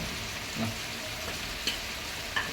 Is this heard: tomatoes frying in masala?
yes